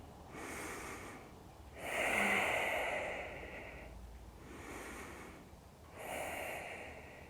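Slow, deep yoga breaths during a pigeon pose practice: four long airy inhales and exhales drawn close to the ear, rising and fading in an even rhythm with no talking over them.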